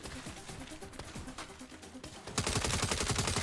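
Rapid gunfire in the video game Saints Row, scattered shots at first and then a dense, louder sustained burst near the end, with bits of speech underneath.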